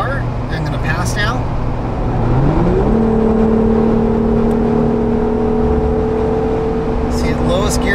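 A Jeep JL Wrangler on 37-inch tires running at highway speed, about 75 mph; steady road and engine drone rises in pitch as it accelerates to pass, continuous and close.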